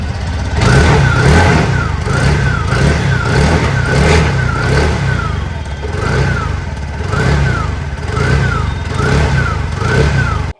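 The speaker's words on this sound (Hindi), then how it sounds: "स्कूटर की एग्जॉस्ट नोट" A TVS Jupiter 110 2026 model 110cc scooter engine runs steadily with a buzzing exhaust note, revving up and down in repeated cycles, close by and fairly loud.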